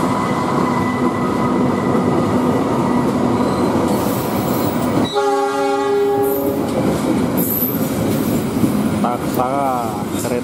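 An Indonesian passenger train, the Taksaka running from Yogyakarta, roars past loudly and close on a reopened line, its horn sounding in a long steady blast midway while wheels rumble and clatter throughout.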